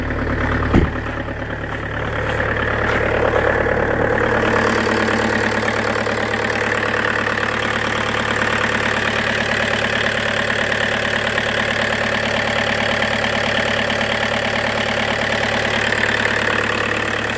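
A 1.9 TDI BEW diesel engine, from a 2004 Jetta and fitted in an Audi A4 B7, idles steadily after a cold start, with a constant low rumble and a rhythmic clatter that holds throughout.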